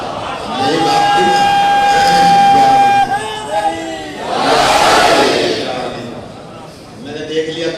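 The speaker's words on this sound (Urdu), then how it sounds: "میں نے دیکھ لیا کتنوں نے نعرے کا جواب دیا." A mosque congregation at a Muharram majlis in Karachi answers a slogan in unison, a loud sustained crowd chant swelling over several seconds, with a preacher's voice before it.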